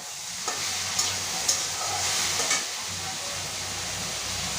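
Onions being turned over and stirred as they fry in a pan for a home okra dish: continuous close sizzle with a few distinct scraping clicks from the spatula spaced about a second apart.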